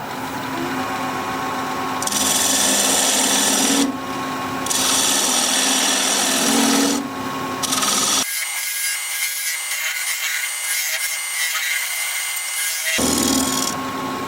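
A wood lathe spins at 1200 RPM while a tool cuts a tenon on a wooden bowl, giving a loud continuous scraping and rushing sound that shifts in tone as the cut changes, with no talk.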